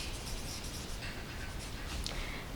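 Steady handwriting on paper during a Class II maths lesson on number names, a continuous close scratching that goes on without a break and has no voices over it.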